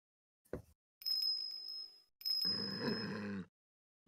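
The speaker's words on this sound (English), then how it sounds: "Is that a bell around its neck? That explains the sound, I suppose." A bell hanging around a pit bull's neck in the video game Ace Attorney Investigations rings in two bright, sustained tinkling bursts, the second giving way to a rough, broad growling burst.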